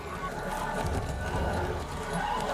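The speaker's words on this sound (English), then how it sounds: "Don't let the horse get away." A horse moves and snorts amid a dense rumble of outdoor noise in The Walking Dead, hooves and shuffling blending into a busy, continuous background.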